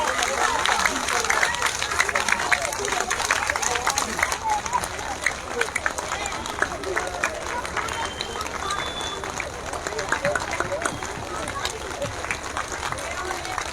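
A crowd at a BSP political women's gathering keeps up continuous, dense applause with clapping and crowd noise throughout, while a voice talks over it.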